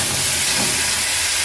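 Chopped tomatoes hit a hot pan while making sabudana fry, giving a loud, dense hissing sizzle that fills the whole moment at close range with no voices over it.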